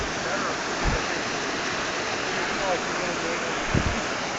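Steady broadband rush of a full, high-running river flowing beneath a bridge on a run along the Puyallup and Carbon rivers, continuous and even, with a few faint low thumps.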